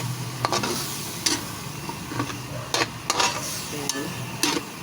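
A spoon scrapes and clanks in a pot as taro is stirred into simmering coconut-milk chicken stew, with soft bubbling under several irregular knocks against the metal.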